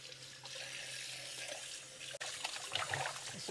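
An ice cream maker's frozen container rinsed under a running kitchen tap, a steady rush of water splashing in a sink with small clunks as it is handled, close and without talking.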